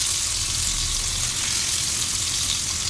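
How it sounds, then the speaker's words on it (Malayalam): Prawns frying in hot coconut oil while being gently stirred: a steady, dense sizzle that holds evenly throughout, close and fairly loud, with no voices. "കൊഞ്ച് വെച്ചിട്ട് ചെറുതായിട്ടൊന്ന് അനക്കി കൊടുക്കണം"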